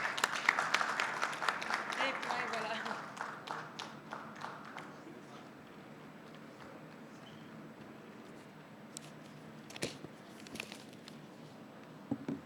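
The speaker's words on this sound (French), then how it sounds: "il y a une bonne main d'applaudissements." Audience applause at an award ceremony at the Rio Pavilion, a Day of Action for Land event, with clapping loudest at the start and fading to scattered claps and murmur afterward.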